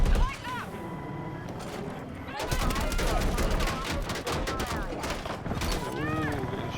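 Gunfire in the video game Battlefield 6: bursts of sharp shots crackle over game noise and engine rumble, with someone talking over much of it.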